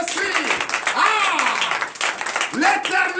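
A church congregation clapping and cheering for Jesus during a night deliverance and prophecy service in Benin, dense steady applause with excited voices and shouts over it throughout.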